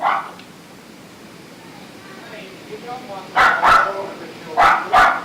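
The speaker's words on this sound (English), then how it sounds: "Richard, let her come there, she'll stop barking." A female dog barks indoors in a Hastings-on-Hudson home, two loud pairs of sharp barks near the end after a quiet stretch, with a brief voice-like sound at the start.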